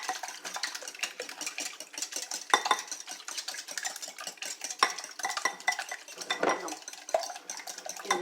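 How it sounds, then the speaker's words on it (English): Eggs whisked in a bowl for a breakfast quiche, a fast rhythmic clatter of a whisk against the bowl sides, close and continuous with a few louder knocks, no talk. "let's whisk up these eggs"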